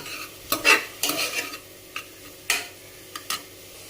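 Onions sautéing in a pan for mutton kuzhambu, stirred with a utensil in scattered scraping bursts over a faint sizzle, close and moderately loud, with no talking.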